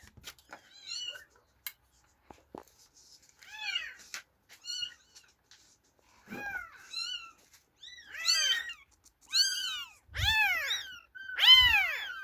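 Several kittens living at a farmstead with chickens and a garden give repeated high, rising-falling meows, sparse and scattered at first, then louder, closer and more insistent toward the end, with no talking.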